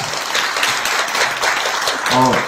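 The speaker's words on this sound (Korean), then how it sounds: "다시 한번 뜨거운 박수 부탁드리겠습니다." Warm audience applause at an education administration forum, a dense continuous round of clapping filling the room, with a brief voice rising near the end.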